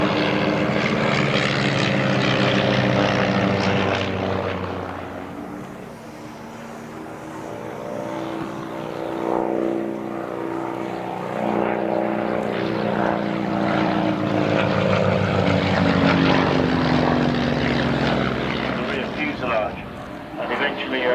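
A propeller aircraft engine drones steadily at an air show, a loud sustained rumble that swells and fades slightly as the plane passes, with a commentator talking over it throughout.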